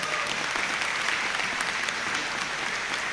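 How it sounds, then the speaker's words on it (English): Audience at a graduation ceremony applauding steadily, a dense, even wash of many hands clapping throughout with no voices over it. "perhaps you might give a little bit of a clap for those who've helped you get you where you are today."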